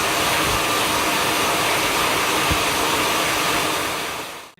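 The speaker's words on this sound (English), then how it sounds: "I'm just going to heat up the mount just for a couple of minutes" A heat gun or hair dryer blows a steady, loud, close whoosh of hot air onto a GoPro mount to soften its mounting tape, holding constant before switching off at the end.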